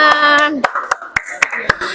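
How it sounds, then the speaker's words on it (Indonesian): A school class claps hands in a quick, even rhythm of sharp, close claps after a voice sings or calls out at the start. "Berikan tepuk tangan untuk kalian semuanya."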